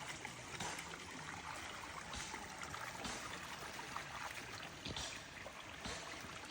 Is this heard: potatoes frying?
no